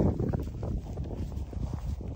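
Hooves clop steadily on the ground amid a wind-rumbled background, several horses walking at an unhurried pace in April in Kazakhstan.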